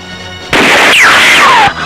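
A gunshot fired at a man in a dramatic film scene: one sudden, loud blast that sustains for just over a second with a falling, whining tail, then cuts back to quiet.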